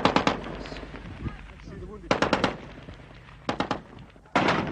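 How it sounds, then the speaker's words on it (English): Mortar shells bursting near a bridge during the April 1975 battle of Saigon at Tân Cảng, several sharp explosive bursts in clusters, fairly close, with faint voices and background noise in between. "Despite the mortars hitting the bridge to the left, only 50 yards away, these men kept their places"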